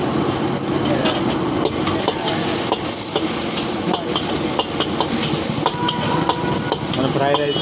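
Fried rice with capsicum and cabbage stir-fries in hot oil at a street food stall, sizzling steadily while a metal spatula clanks and scrapes against the pan in an irregular rhythm.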